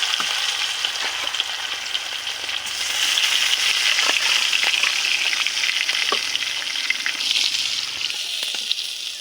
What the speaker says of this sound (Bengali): তো এখানে আমি মাছগুলো ভাজে নেই।